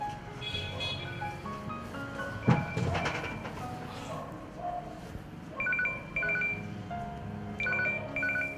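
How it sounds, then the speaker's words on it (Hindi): A telephone rings in a crime-show reenactment, with repeated short electronic ring bursts toward the end and an earlier sharp knock, over a faint background. "यार पता नहीं किसका फोन है।"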